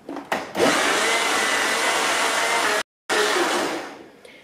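A blender runs steadily, grinding cake batter with oil being added, a loud continuous whirring motor that cuts out briefly and then resumes before trailing off.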